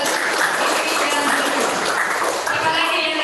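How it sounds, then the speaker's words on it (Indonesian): High school students clap together in a school gathering hall, a loud, dense, steady burst of applause that fills the whole moment, with faint voices mixed in underneath. "Tepuk tangan dulu."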